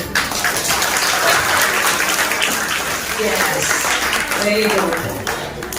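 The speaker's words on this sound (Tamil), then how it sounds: "ஆனா அந்த கைத்தட்டெல்லாம் பத்தாது" An audience at a church Christmas program in Thoppur claps steadily throughout, a dense continuous patter of many hands with a few faint voices underneath.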